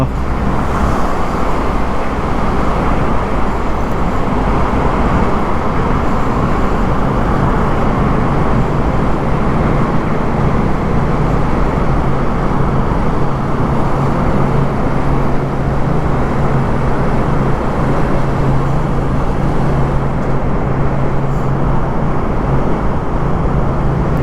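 A car moving through a road tunnel on the route from Jammu to Banihal, with a loud, steady roar of engine and tyre noise and a low droning hum that fills the whole stretch without any voices.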